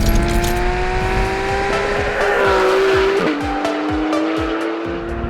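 A Porsche 991 GT3 RS with a PDK gearbox screams up toward its 9,000 RPM redline, loud and close, with rising engine pitch, a quick upshift and sharp crackling pops as revs fall away.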